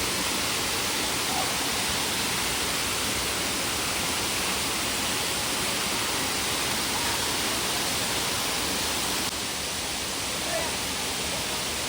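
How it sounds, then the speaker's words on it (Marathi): Water pours steadily over Ghonsari Waterfall near Phonda, a loud continuous roaring rush with no break, heard alone. "हे पहा, धबधब्याला पाणी जातं आहे."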